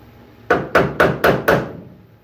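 Five sharp, evenly spaced hammer blows on a steel edge to bend it down slightly, each a loud close metallic strike with a short ringing decay, followed by quiet.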